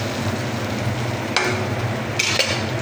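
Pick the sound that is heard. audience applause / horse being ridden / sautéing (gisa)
sautéing (gisa)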